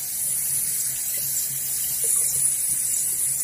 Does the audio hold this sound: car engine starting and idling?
no